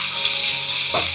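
Crushed garlic and ginger sizzle in a hot pan, a loud, steady hiss of frying with a brief soft clatter near the end.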